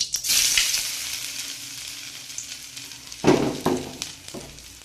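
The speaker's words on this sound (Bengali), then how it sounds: "এবারে দিয়ে দেবো লাউ শাকগুলো বড়া বড়ার আকারে করে দিয়ে দিচ্ছি" Gourd leaf fritters hiss and sizzle as they drop into hot oil in a pan, a bright steady frying crackle with a louder burst of spatter near the end as more batter goes in.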